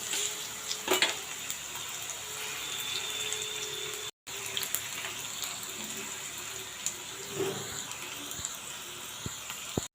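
Okra frying in a pan for a crispy recipe, a continuous hissing sizzle throughout, with occasional clinks of stirring and a brief dropout midway.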